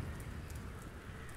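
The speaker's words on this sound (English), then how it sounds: "And it's raining." Rain in the SightLine: The Chair VR demo falls as a soft, steady patter with a low rumbling bed and a few scattered sharper drops, fairly faint and brief.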